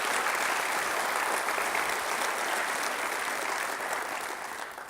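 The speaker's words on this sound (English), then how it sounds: "let's give them a big round of applause as well" Audience applause at a city development forum in a convention center, a dense, even wash of many hands clapping that fades slightly toward the end, with no voices over it.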